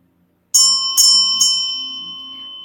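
Three sharp strikes on a small bell ring out one after another, each leaving a clear, sustained metallic tone that fades slowly in a quiet room.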